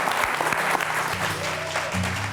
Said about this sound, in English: Round of applause for Les Stroud, you guys.